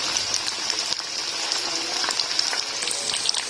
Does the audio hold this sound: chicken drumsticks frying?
yes